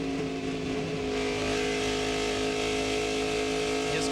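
NASCAR race cars run side by side on the track during the Carquest Auto Parts 300, with a loud, steady engine drone that swells as the pack roars past.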